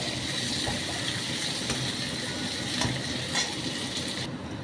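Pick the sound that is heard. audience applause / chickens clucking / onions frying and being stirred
onions frying and being stirred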